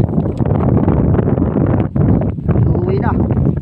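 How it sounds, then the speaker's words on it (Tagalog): Strong gusting wind buffets the microphone with a heavy, continuous roar, while a person talks underneath. "Sobrang lakas ng hangin."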